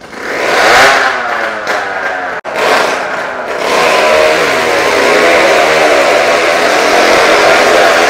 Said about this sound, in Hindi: और ये बाइक स्टार्ट होते हुए